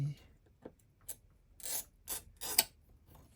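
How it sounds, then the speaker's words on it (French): A handheld glass cutter works across dichroic glass for jewelry making, giving a series of short, dry scraping and crunching strokes, close and fairly quiet, in an irregular rhythm. "On va le couper avec un ciseau à verre, ça va être plus facile."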